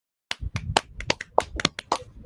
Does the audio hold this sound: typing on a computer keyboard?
no